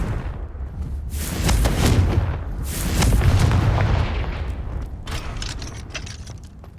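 A Confringo blast spell goes off in Hogwarts Legacy with loud rolling booms, two swelling explosive surges with crackling debris that gradually fade into low rumbling ambience.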